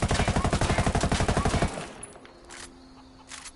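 A 5.56 assault rifle in the tactical shooter Ghost Recon fires a rapid automatic burst into a building, loud steady shots for under two seconds, then stops, leaving faint ambient noise and a few light thuds.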